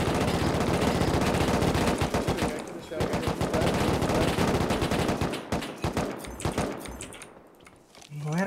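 Gunfire in the video game Rust: loud, dense bursts of rapid automatic shots crackle almost continuously, then thin out into scattered single shots near the end.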